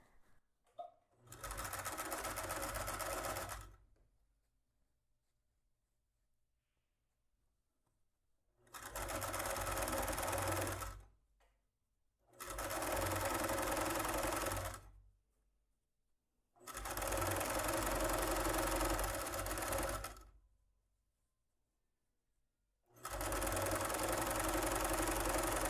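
A sewing machine stitches a makeup pouch in five separate runs of a few seconds each. Each run is a steady, close, whirring hum, and quiet pauses fall between them.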